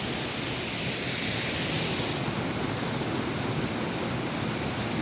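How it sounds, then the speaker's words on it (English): A waterfall in Patterdale in the Lake District, heard as a steady, dense roar of falling water that fills the whole clip evenly and close, with no voices over it. "It's this lovely waterfall just in Patterdale."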